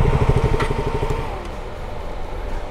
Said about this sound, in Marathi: इथे बाईक पार्क करायची आहे.